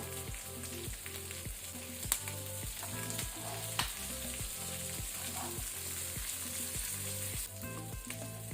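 Sardine fish eggs fry under a lid in a covered pan over medium-high flame, giving a soft, steady sizzle with a faint rhythmic pulsing and a couple of small clicks, close but quiet.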